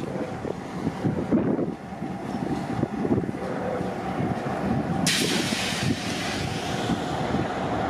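A locomotive running light engine at Kensington station gives a steady, low rumble, with wind buffeting the microphone throughout and a brighter hiss joining in the last few seconds.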